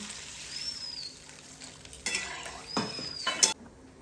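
Water poured into a pan of mustard spice paste for a Bengali hilsa and eggplant curry hisses and sizzles in bursts, with stirring and the clink of a utensil against the pan.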